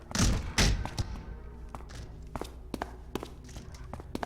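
In the video game The Dead Linger, two heavy thuds open, followed by a series of lighter scattered knocks and taps of zombies banging on doors in the distance.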